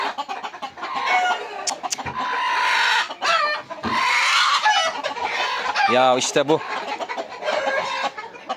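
Chickens and roosters cluck and squawk nearby in a busy, overlapping flurry, with a person talking briefly among the birds.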